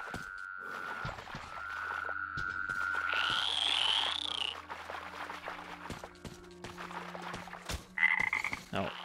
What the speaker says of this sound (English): Oh, I think I killed a toad.